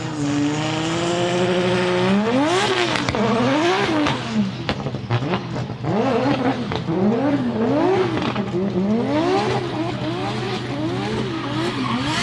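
A drift car's engine at Meremere Drift Park rises and falls in repeated sweeping revs, bouncing off the rev limiter during a qualifying run, loud and sustained with tire squeal and skidding mixed in.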